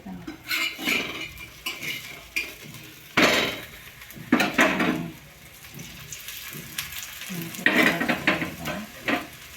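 Cauliflower paratha cooking in oil on a griddle: bursts of sizzling and frying rise and fall, mixed with scraping and clinks of a spatula or utensil against the pan, close and fairly loud, with no talk.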